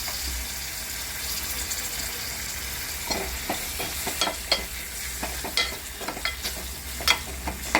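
Deseeded tomatoes frying in a pan with spices make a continuous sizzle, and from the middle on a spatula stirs and scrapes in a quickening run of close, distinct clacks.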